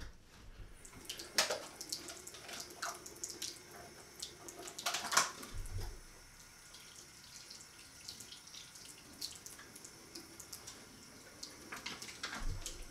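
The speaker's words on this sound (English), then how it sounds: "Rinse off the puck real quick." Tap water runs while a shaving soap puck is rinsed, a continuous splashing flow with a few louder splashes and knocks, close by.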